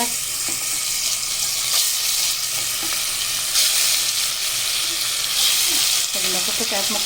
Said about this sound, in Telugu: కరివేపాకు ఫ్రై అయ్యాక ఈ మసాలాలు బాగా పట్టించిన చేప ముక్కలు ఇవ్వండి, ఇవి వేసుకుంటామండి.